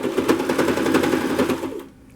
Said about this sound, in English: And sew all the way to the top.